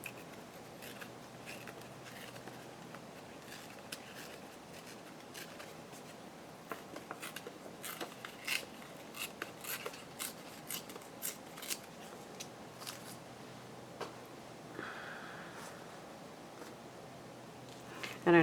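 Scissors snip fabric for a boho journal cover, a series of short, close, crisp cuts that cluster in the middle and spread out, over a quiet background.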